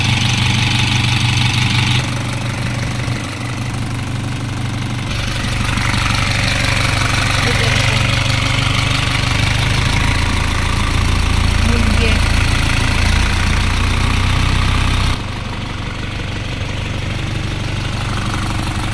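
Isuzu Elf truck diesel engine running at idle, a loud, steady, close rumble that holds constant throughout, with a slight shift in tone partway.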